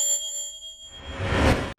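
A single bright bell ding rings out cleanly with sustained tones, then a brief swelling whoosh builds and cuts off abruptly.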